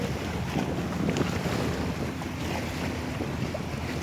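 Strong wind gusts across the microphone at a seaside fishing spot on Koh Yo, Songkhla, with a dense, blustery rumble and surf-like roar running steadily throughout.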